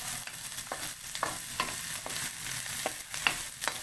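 Garlic and onion sauté in a hot pan, with a steady sizzle broken by repeated stirring scrapes and clacks spread through the clip, close and moderately loud, with no talking.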